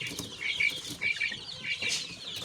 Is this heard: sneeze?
no